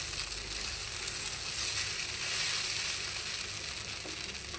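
Flattened rice (chira) pulao fries in a pan with a continuous close sizzle and hiss, its texture rising and falling slightly as it cooks, with no voices.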